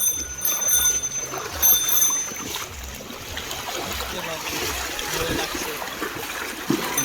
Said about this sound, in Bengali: দেখতে পাচ্ছ জল কত কত জল এখানে। এত স্রোত জলে